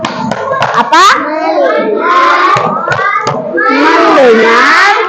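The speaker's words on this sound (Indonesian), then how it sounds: "kita tepuk masuk kelas" A classroom of children doing a rhythmic clapping chant before lessons, sharp hand claps in patterned bursts mixed with children chanting together in unison, loud and close.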